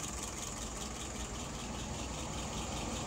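A WO 539 engine fitted with a 200 throttle idles steadily at close range, a continuous even rumble with no speech over it.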